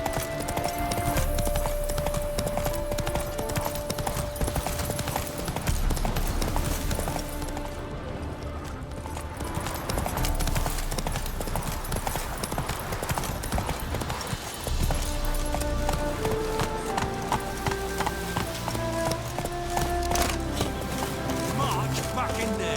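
Hooves of Roach the horse galloping in The Witcher 3, a busy clip-clop rhythm under loud game music and effects, with a voice speaking briefly.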